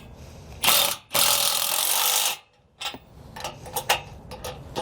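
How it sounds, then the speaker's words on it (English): A 17mm ratchet wrench and socket tighten the bolts on a 2-inch RV bumper trailer hitch receiver, giving a quick burst of clicking, then a longer run of ratcheting, followed by several shorter, scattered clicks close up. "we're going to come back with our 17mm wrench and socket and tighten it down"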